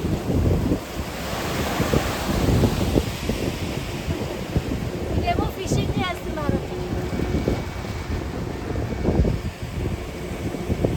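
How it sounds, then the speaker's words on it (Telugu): Ocean waves crash onto a beach along a walkway near Udupi. The surf roars continuously and loudly, buffeted by heavy wind noise on the microphone, with faint voices in the background. "ఇదేమో అలలు ఎగిసి ఎగిసి పడుతున్నాయి"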